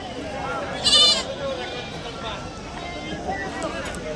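Goats bleat in short bursts around a busy goat market in Kadiri, one sharp call standing out near the start, over a steady crowd murmur and people talking.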